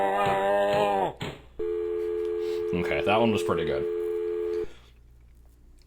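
Telephone sounds in the game Homestream Watcher during a prank call: bursts of dialing tones followed by a long steady ringing tone, with someone talking over part of it.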